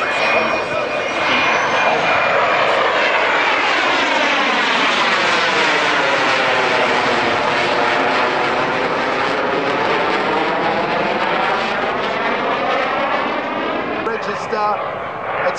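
A Boeing 737 airliner makes a loud, sustained flyby at an airshow, its jet roar rising and sweeping in pitch as it passes, with an announcer's voice over the top throughout.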